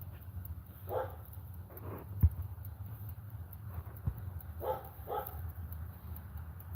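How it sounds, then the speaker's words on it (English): Dogs barking at an outdoor livestream while stew cooks, a few scattered mid-range barks at a distance over a steady low background rumble, with no talking. "I apologize about the dogs"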